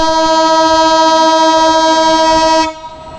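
Loud, sustained train horn sounding close by as a train passes, a steady multi-tone blare lasting nearly three seconds before cutting off abruptly into quieter rail noise.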